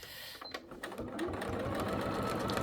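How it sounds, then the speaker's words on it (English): A sewing machine stitches across a quilt corner during free-motion couching, starting with a few short bursts before settling into a steady, close, rapid needle hum. "So now I'm just going to stitch across here in that corner"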